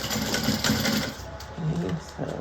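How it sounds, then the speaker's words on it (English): A sewing machine stitches the bottom seam at 3/8 inch in a close, continuous whirring run that briefly eases and resumes. "sew the bottom up, also at 3/8"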